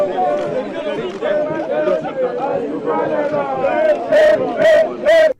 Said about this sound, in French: la chef de l'exécutif provincial a été ovationnée par la foule des Lualabais